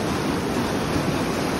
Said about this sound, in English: Nice rapids